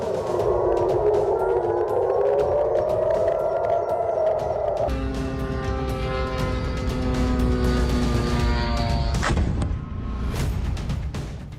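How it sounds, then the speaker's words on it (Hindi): An air raid siren sounds at a US airbase in Jordan, its wailing tone rising and falling, then settling into a steady, harmonic-rich drone over background rumble. "जॉर्डन में सायरन अलर्ट पर यूएस एयरबेस।"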